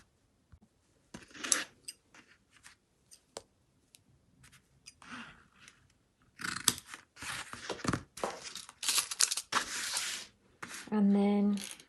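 Scissors cutting a length of fabric sewing binding, a series of close, crisp snips and rustles in short bursts separated by quiet gaps, with a brief higher-pitched tone near the end.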